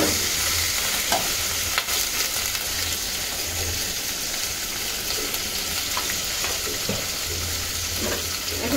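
A small amount of spices frying in hot oil for a hilsa curry, giving a loud, continuous, dense sizzle that runs unbroken from start to finish, up close with no voices.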